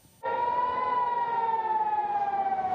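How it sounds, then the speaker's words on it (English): An air raid siren warning of incoming missiles wails loud and steady, its piercing tone sliding slightly downward as it holds. "The piercing pitch of air raid sirens warn of Iranian missiles approaching"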